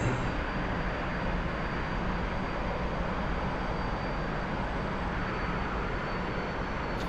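A T-45 trainer jet climbing out after takeoff in the DCS flight simulator, a steady broadband engine roar with a thin high whine, loud and unbroken, no voices.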